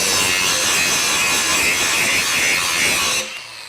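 A Ryobi 18-volt One+ HP 4-1/2 inch cordless angle grinder on a 3.0 battery grinds steadily with a loud, continuous, gritty whine, then cuts off abruptly near the end.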